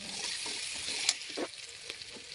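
Whole spices dropped into onions frying in a pan, with a bright, continuous sizzle and a couple of brief crackling bursts as they hit the oil, close and moderately loud.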